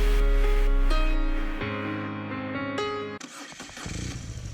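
A BMW R nineT motorcycle starts up close by, a loud low engine note that shifts in pitch and settles into a running tone, cut by a brief break before the engine sound resumes.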